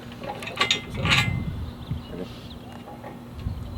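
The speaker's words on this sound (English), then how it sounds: "Watch when I turn this motor over." A damaged LS engine cranks over with rough mechanical clattering and grinding, pieces falling inside, a few louder knocks early on, then irregular rattling bursts with faint voices in the background.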